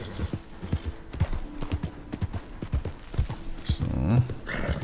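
Horse hooves clip-clopping at a ride back in the video game Red Dead Redemption 2, a steady rhythmic beat of hoofbeats close by, with a brief snort or whinny near the end.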